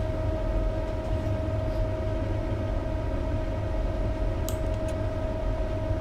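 A Class 220 diesel train in CrossCountry livery runs in Train Simulator 2017, a steady engine drone with a sustained tonal whine and a couple of brief high squeals near the end.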